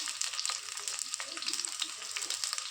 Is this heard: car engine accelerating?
no